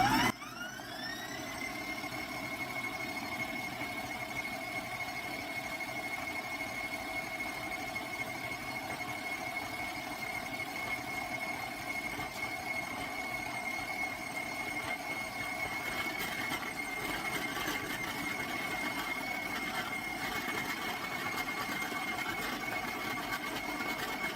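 An electric mixer churns macadamia nut chocolate cookie dough in a steady, continuous whir with a constant motor tone and a slight whine, running close and alone for the whole stretch.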